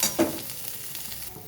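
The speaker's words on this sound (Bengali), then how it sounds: "এবারে আমি আলুটাকে খুব ভালো করে এই উপকরণের সাথে মিশিয়ে নেব।" Boiled potato being stirred and mixed with spices and ghugni filling in a pan, a brief scrape near the start followed by soft, steady stirring and faint sizzle.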